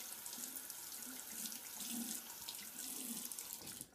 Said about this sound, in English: And just rinse off this blade.